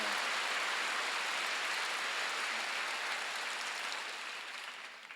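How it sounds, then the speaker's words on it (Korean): A church congregation claps during a Sunday worship service, a dense, steady wash of hands clapping that holds evenly, then thins out slightly toward the end. "박수 좀 세게 쳐봐요"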